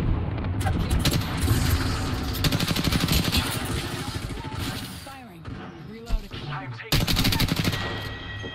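Rapid automatic gunfire in Apex Legends as two players shoot together at an approaching Trident vehicle, dense continuous bursts that pause briefly near the end before resuming loudly, with a game soundtrack and effects underneath.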